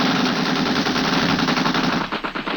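Rapid machine-gun fire in a radio drama boat attack on a launch, a loud continuous burst of rattling shots filling the whole stretch, stuttering into separate bursts near the end.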